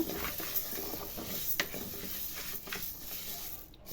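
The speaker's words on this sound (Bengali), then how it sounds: "ভালোভাবে নেড়ে ছেড়ে ভেজে নেব" Banana stem (thor) being fried in a pan gives off a soft continuous sizzle, with scattered scrapes and taps of a spatula stirring the pieces, close and moderately loud.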